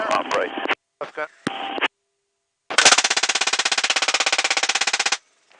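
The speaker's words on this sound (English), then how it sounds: "Left gun, open fire." From a helicopter, a GAU-21 machine gun fires one long, rapid, loud burst of evenly spaced shots. Short bursts of radio chatter from the crew come just before it.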